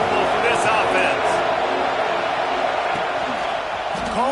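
A stadium crowd at a college football game keeps up a loud, continuous roar, heard under a commentator's talk.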